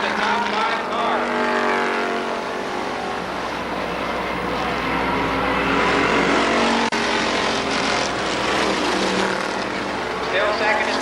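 Stock race cars lapping at Columbus Motor Speedway season opener: a continuous, loud, dense engine roar of multiple cars circling, steady throughout with slight swells as the pack passes, likely with an announcer's voice mixed in.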